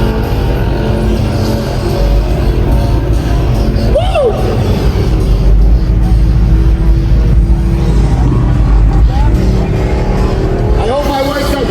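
A car doing a burnout at a state fair car show roars continuously, with loud sustained engine revving and tyre noise and occasional rising whines, while crowd noise and talk blend underneath.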